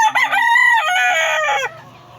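A gamecock rooster crows once, loud and close, its harmonic call rising and holding for nearly two seconds before breaking off into quiet farmyard background.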